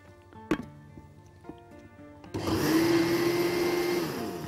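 An electric blender pulses crepe batter in one burst of about two seconds, a loud whirring roar after a few light clinks and taps, close up with no talking.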